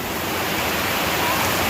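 A heavy downpour pours down with rainwater running off a sloped concrete surface, a dense, steady hiss of rain and flowing water that fills the space without a break.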